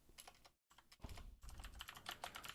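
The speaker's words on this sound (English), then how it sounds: "having the hardest time typing the word crypto today." Rapid typing on a computer keyboard while writing C++ code, a close, quiet run of irregular key clicks with a brief pause near the start.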